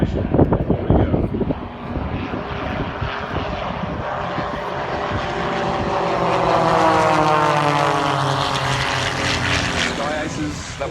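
Sky Aces propeller aircraft performing formation rolls at an air show, engines droning loudly and steadily with a shifting pitch as they pass overhead, a commentator's voice heard over the noise.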